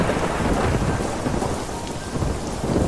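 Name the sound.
heavy rain falling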